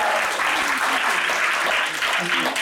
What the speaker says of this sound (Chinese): 给自己掌声，我们